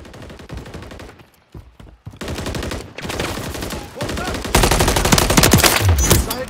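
Machine gun fire in Call of Duty: Modern Warfare 3 multiplayer on PS5, sounding as rapid automatic bursts that break off briefly and then come back louder and closer, with dense volleys near the end.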